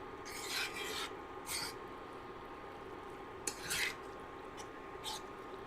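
Buffalo chicken dip with melting cream cheese stirred in a pan over medium-low heat, with soft rasping scrapes in uneven bursts over a steady low hum, fairly faint and without talk.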